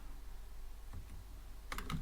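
Quiet, brief keyboard typing: a few soft key taps, then a quick cluster of clicks near the end.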